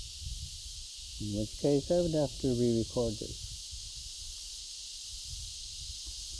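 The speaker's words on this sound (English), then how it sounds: "You can hear my friendly bugs in the background" Insects drone in a Palawan jungle as a constant high, steady hiss in the background, with someone speaking briefly over it.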